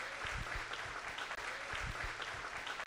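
A church congregation claps steadily and continuously, with faint voices mixed into the applause.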